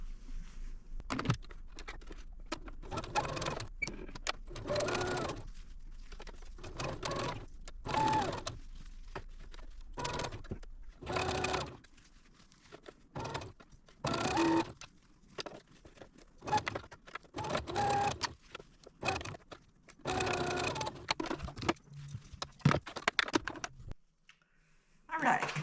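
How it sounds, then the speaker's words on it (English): A sewing machine whirs in short repeated bursts of rapid stitching quilt pieces, separated by pauses, close and moderately loud. "I'm going to take these over the sewing machine and I'm going to sew right on that line I drew"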